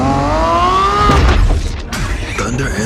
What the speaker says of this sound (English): To combine the sound of the engine with the light of a new beginning.